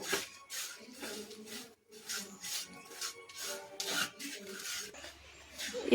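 A spoon scrapes and stirs chilli powder and spices in a pan for an okra theeyal, making repeated rough rasping strokes in a steady back-and-forth rhythm, close and fairly soft, with one short pause.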